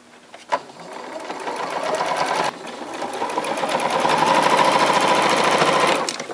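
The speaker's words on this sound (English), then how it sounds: "when you're sewing these turkey feathers together, you want to start at the middle and sew a 1/4 inch out to the edge." Sewing machine stitching through turkey feather fabric, a steady close motor whir with a brief stop midway before it resumes and runs on, a short click near the start.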